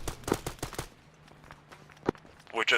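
Drive-by gunfire in a co-op military shooter game: a rapid burst of several close shots, then sparse scattered distant cracks and one sharp shot, ending in a louder noisy burst.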